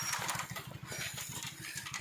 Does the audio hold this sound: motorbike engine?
yes